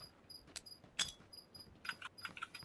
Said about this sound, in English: I like crickets